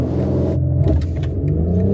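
A 2021 BMW X3 M40i with sport exhaust launching hard in sport mode: a loud, close engine roar with a deep rumble, swelling as it revs, with no talking.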